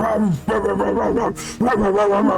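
Barking and yipping from zombie dogs in a tabletop role-play game, a rough, continuous run of dog-like calls with a brief gap midway, close and fairly loud.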